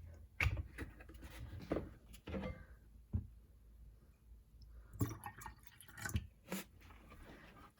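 Vinegar poured into purple cabbage juice indicator gives close, wet dripping and splashing in several short bursts, with quiet gaps between them.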